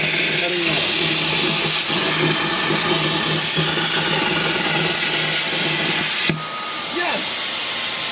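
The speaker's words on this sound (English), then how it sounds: "Compressed air and electricity cutting metal." Compressed air and electricity cut metal with a loud, sustained roaring hiss that drops off abruptly near the end, leaving a quieter background.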